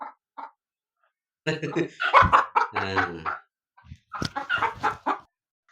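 Country chicken hens cluck in quick, irregular bursts close by, with brief gaps of quiet between the flurries of squawking.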